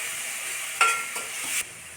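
Tomato paste drops into a hot frying pan for a rajma curry, giving a steady background sizzle with a short burst of splattering and scraping partway through, close and moderately loud.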